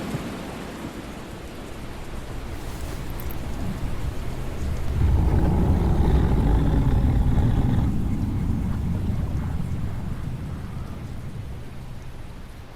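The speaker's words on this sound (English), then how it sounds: "It's raining." Steady rain with a low rumble of thunder swelling in the middle, from a rainy mountain scene in the video game Tales of Berseria, heard alone without any talking.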